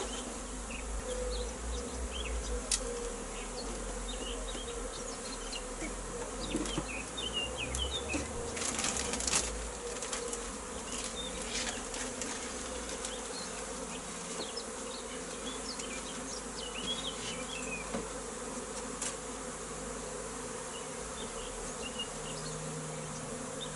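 Honey bees buzzing around an open hive in spring, a steady droning hum from many insects with individual bees passing close now and then.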